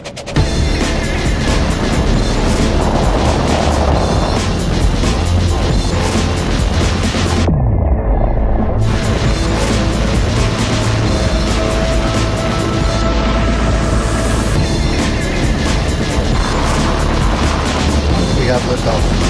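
SpaceX Starship Flight 3 lifts off with a loud, continuous roar, a dense rumbling blast that stays saturated throughout, broken by one brief gap and then resuming full force.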